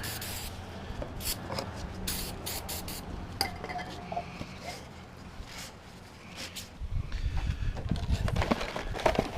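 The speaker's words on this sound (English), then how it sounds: "Just need some brake clean." Brake cleaner sprayed onto the old oil filter housing of a 2006 VW Touareg 3.2L VR6 during an oil change, heard as several short hissing bursts in a garage, with clanks and handling noise building toward the end.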